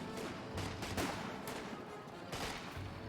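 Machine-gun fire in a Company of Heroes 2 battle, with MG42s deployed: short, faint bursts of repeated shots recurring in the distance over a low battlefield rumble.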